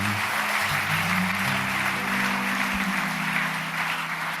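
A church congregation applauding and acclaiming the Lord, a dense, steady wash of many hands clapping together at close range, sustained without a break.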